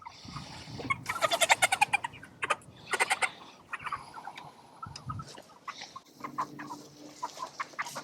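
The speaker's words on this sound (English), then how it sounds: "All right, so we got a big cockerel here." A large cockerel on a chicken farm gives a run of clucks and squawks, loud and close, in uneven bursts with short pauses between calls.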